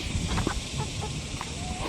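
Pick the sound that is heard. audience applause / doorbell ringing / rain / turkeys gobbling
turkeys gobbling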